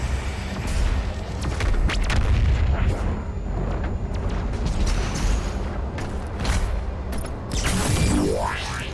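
The BFG 10,000 in the game DOOM Eternal fires with heavy, booming blasts and rumbling mechanical roars, loud repeated explosive surges over a dense, churning din.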